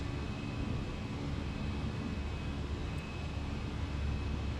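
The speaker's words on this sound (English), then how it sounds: "I would say that's a pretty high performance takeoff we just did." Steady, loud broadband roar of a Fenix A320 airliner's engines during takeoff out of Bordeaux in Microsoft Flight Simulator 2020. The engine noise holds a constant, dense cockpit rumble with no voices.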